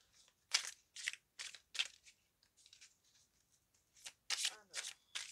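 Tarot cards are shuffled in quick riffling bursts, about a dozen short papery flicks spaced irregularly, close and fairly quiet with pauses between.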